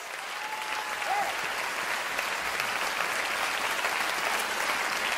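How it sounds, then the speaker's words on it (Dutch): Audience applause at a live concert, a dense steady wash of clapping from a large crowd that holds at an even level throughout, with a faint voice briefly audible early on. "daar hoor ik een groot applaus"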